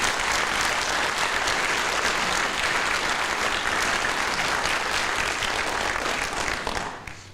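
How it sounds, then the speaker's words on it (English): A large audience at a military honors and retirement ceremony applauds in a loud, dense, steady ovation lasting about seven seconds, then tapers off abruptly at the end. "let's give one big, great round of applause for everybody that came up here"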